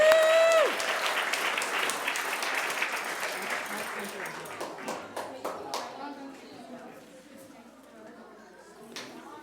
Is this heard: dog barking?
no